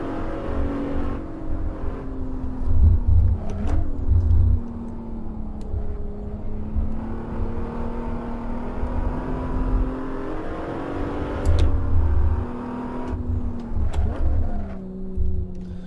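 BMW Z4 in the Assetto Corsa racing game, its engine revving steadily on a track with rising and falling pitch through gear changes, loud and continuous with brief shifts and bursts.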